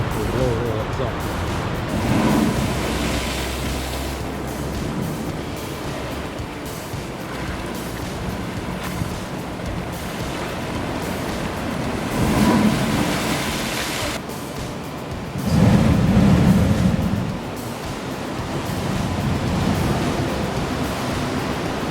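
Ocean surf surges and swells at Arahoho Blowhole on Tahiti, broad wind-blown wash with louder bursts as waves push in, the strongest around the middle, while speech is likely present.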